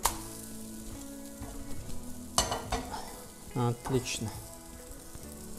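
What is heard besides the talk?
zucchini fritters being flipped and frying in a pan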